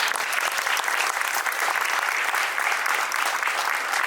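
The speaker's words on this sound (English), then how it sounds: "let's give them a round of applause." A roomful of people applauds youth science presenters at a science center event, dense continuous clapping from start to finish, loud and close, with a little crowd murmur underneath.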